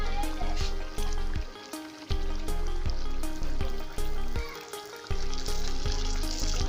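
Puli pitha rice cakes fry in hot oil in a village home kitchen, giving a steady broad sizzle under rhythmic background music.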